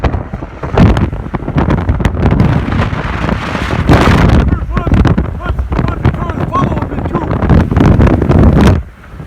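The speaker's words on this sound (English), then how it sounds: "Right now there's kind of like a windstorm out here." Strong windstorm gusts in Winnipeg, Manitoba roar and buffet the microphone loudly and continuously in rough, uneven surges before dropping away at the very end.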